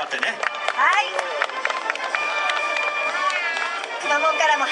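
A crowd applauds and cheers at a mascot sumo match held by a TV station, continuous clapping mixed with chatter and an announcer's voice over it.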